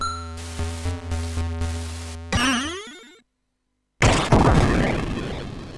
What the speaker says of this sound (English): And that's the smart bomb. activating that at the moment.